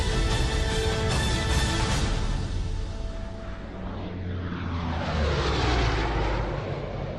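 Massed World War II aircraft drone over Holland, a loud, continuous propeller roar that swells and then sweeps past with a falling tone as planes pass overhead.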